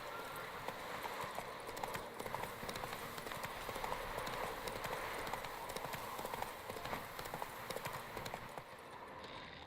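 Roach the horse's hooves clip-clop at a steady rhythm through The Witcher game world, the beat close and continuous over a dense ambient backdrop.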